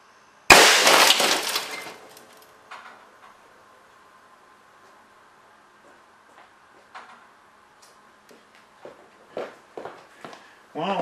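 An air cannon shot smashes a flat screen monitor, a sudden loud crash of breaking glass and plastic that decays over a couple of seconds, followed by scattered tinkling debris, footsteps and faint talk.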